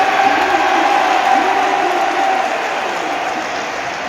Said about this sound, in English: He got the best cheer, better than Saka.